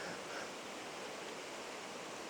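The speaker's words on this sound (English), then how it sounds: "I've come down to the river" A river on Dartmoor flows with a steady, even rushing of water, continuous and unbroken, with no voices.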